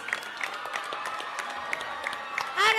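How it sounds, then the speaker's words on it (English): Sparse, scattered applause from a school audience welcoming Rahul Gandhi at St. Joseph's Matriculation Higher Secondary School, light separate claps building slightly, with a voice rising at the end. "Give them a big round of applause"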